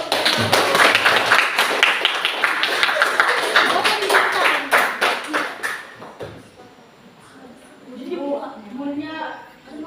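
Hand clapping in a classroom-style setting: a rapid run of sharp, dense claps fills the first six seconds, then fades out as talking takes over.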